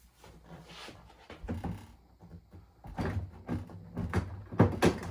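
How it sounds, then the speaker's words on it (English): Wooden thunks and knocks as a Maytag French door refrigerator's bottom freezer door is shifted and pressed onto its brackets, several irregular bumps and scrapes close by, no talking. "Now it's time to install the freezer door."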